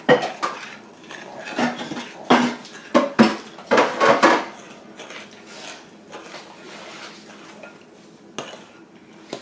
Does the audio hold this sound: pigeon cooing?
no